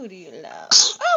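A single sharp sneeze bursts out between an adult's cooing baby talk, brief and close, followed by more speech.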